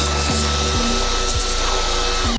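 A shop vacuum roars loudly and continuously near the open fuel pump of a 2010–2012 Ram 1500, with a brush scraping around it and low tones that dip and shift as the nozzle moves.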